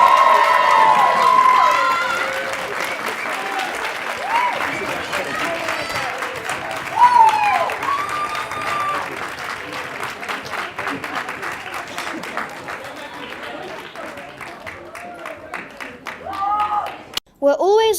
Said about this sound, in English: let's end it now with a round of applause for everyone in this room